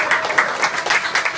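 Warm audience applause at a live solo concert in 2016, close and crisp clapping with a loose, uneven rhythm over a short stretch.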